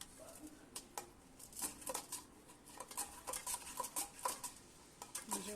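Raw potatoes sliced into thin wafers for homemade chips, giving a run of crisp, irregular cutting clicks and taps with brief pauses, close and moderately quiet, with no talking.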